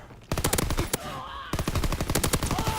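Rapid bursts of automatic gunfire from a gun in Call of Duty, loud and close, with a short pause mid-way before the firing resumes.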